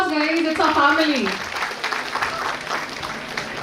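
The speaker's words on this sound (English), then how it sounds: "Round of applause, guys." At a 2025 graduation day ceremony at Marri Laxman Reddy Institute of Technology and Management, a voice speaks briefly over a microphone and then the audience claps. The applause is a moderate, somewhat distant patter that runs to the end.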